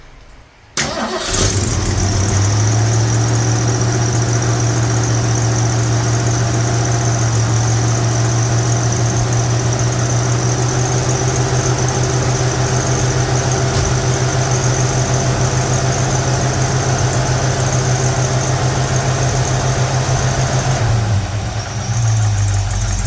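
A 1968 Ford Mustang GT Fastback, a Bullitt tribute, cranks briefly and fires up, then settles into a loud, steady high idle with a deep rumbling drone close by. The engine sits at idle for about twenty seconds before it dips and fades.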